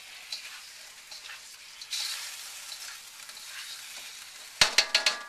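Beef with a heaping teaspoon of five-spice powder sizzles steadily in a pot while being stirred, ending with a quick run of sharp spoon taps against the metal.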